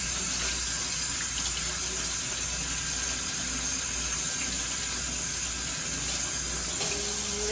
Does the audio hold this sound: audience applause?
no